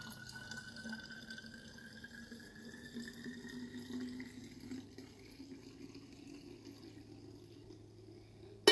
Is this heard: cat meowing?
no